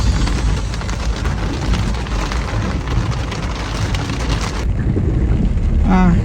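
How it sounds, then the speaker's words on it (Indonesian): Heavy rain pours down on a city street in a dense, continuous roar, loud and close, with a brief gusty buffet near the end. "Ternyata ini hujan deras."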